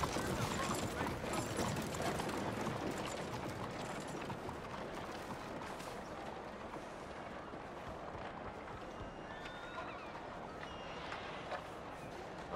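Horse hooves trotting in Red Dead Redemption 2, a steady clip-clop rhythm running beneath dense game ambience and a voice calling out, moderately loud and continuous throughout.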